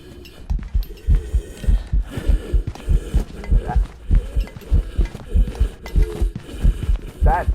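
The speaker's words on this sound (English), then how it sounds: "That's gotta be a Raizu heartbeat," A rhythmic low thumping heartbeat from a ghost in the horror video game Phasmophobia, pulsing steadily and fairly loud throughout with faint background game sounds.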